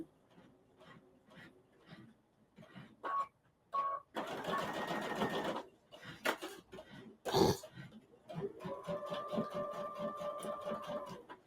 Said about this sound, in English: this sewing machine on hover mode